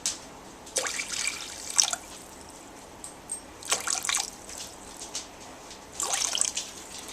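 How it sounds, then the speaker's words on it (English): Boiling water poured into bouillon broth in a kitchen, several short splashing trickles and drips in separate bursts, close and fairly quiet. "I'm going to add another cup of boiling water"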